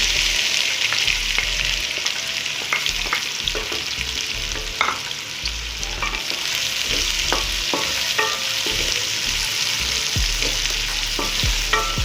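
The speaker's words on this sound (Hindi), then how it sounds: "तकरीबन 1 कप ऑयल ले लें और इसमें ये मैं दो से 3 मैंने प्याज ली हैं, ये मैं डाल दूँगी" About a cup of oil with two to three onions frying in a pan gives a loud, steady sizzle and crackle throughout, with frequent clinks and scrapes from stirring. Nobody speaks.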